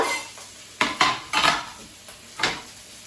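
A utensil stirs green onions in a pot, with several distinct scraping clanks in uneven bursts over a faint background hiss. There is no speech.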